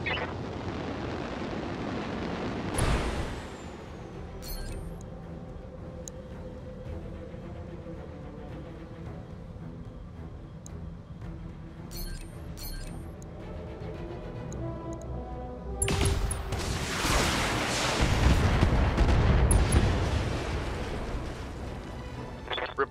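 Explosions and weapon fire destroy a vehicle in the BattleTech video game: a quiet ticking stretch broken by sharp metallic hits, then a loud, sustained rumbling blast late on.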